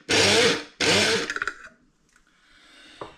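Shardor electric grinder blitzing caramelised nuts in two loud close bursts of high-pitched whirring motor, followed by short sputtering pulses, rattling pieces and then near silence.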